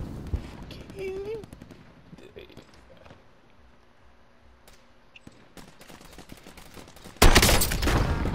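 Burst of loud, dense gunfire from a shooter video game erupts near the end, after a stretch of quieter game ambience with brief speech early on.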